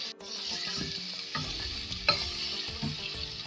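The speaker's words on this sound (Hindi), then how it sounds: "इस तरह जिंजर गार्लिक के साथ अगर हम गोश्त को भूनते हैं" Beef pieces with ginger and garlic frying in a pan for achar gosht, a continuous close sizzle with a few scraping stirs of a spoon, no talking.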